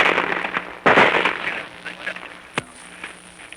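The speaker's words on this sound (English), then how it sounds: "Can you hear that sound? Those, my friends, are bullets." Combat recording from the Battle of Kwajalein in 1944, with sharp gunshot cracks, a loud burst near the start and a single crisp snap later, over a hissy, crackling background with a voice faintly underneath.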